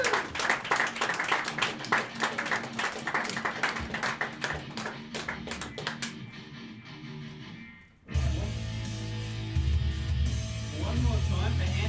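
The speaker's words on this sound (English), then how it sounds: "Give it a round of applause for the one and only Stephen Denham." Audience applause for a comedian at The Junk Bar comedy night, a dense run of clapping for several seconds that thins out, followed by a room of crowd noise and a voice.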